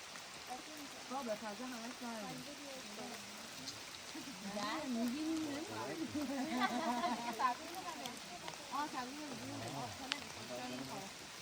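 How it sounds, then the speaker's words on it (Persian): Steady rain patters down around a forest campsite while people talk over it throughout. "بارون هم گرفته"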